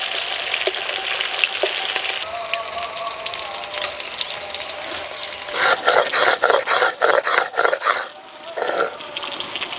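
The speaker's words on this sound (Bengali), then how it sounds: "একসঙ্গে জিওল মাছগুলো ভেজে নেব।" Koi fish frying in hot oil: a continuous crackling sizzle, then a run of louder splattering, stirring bursts near the end, close to the listener.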